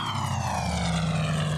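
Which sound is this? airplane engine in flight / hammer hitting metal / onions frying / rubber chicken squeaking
airplane engine in flight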